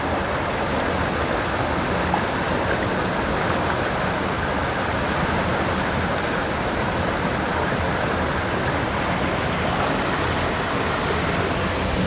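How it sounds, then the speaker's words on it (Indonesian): Water rushing hard from an 8-inch drain outlet of a fast-flow fish pond, a loud, steady, dense roar that holds constant throughout with no talking. "Tuh kalau ngalir kayak gini debit airnya."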